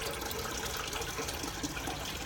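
Tap water running steadily into a cooking pot, filling it about halfway; a continuous, fairly quiet broadband rush with no talking.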